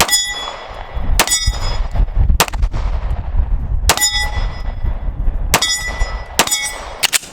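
An HK VP9 9mm striker-fired handgun fires six sharp, loud shots at uneven intervals, each crack followed by a ringing metallic clang and echoing tail outdoors.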